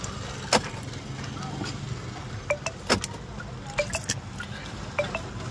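Smart keys for a 2022 BS6 Hyundai Creta are handled, giving light metallic clinks and small jangles at scattered moments over a low background hum while someone talks.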